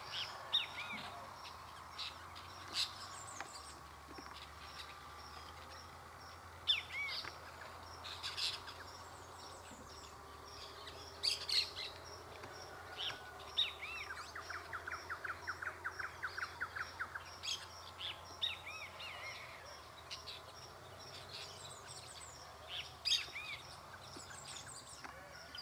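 Wild birds call outdoors in Mato Grosso, Brazil, with scattered chirps and short calls spread through a quiet open-air background and a brief rapid chattering burst midway.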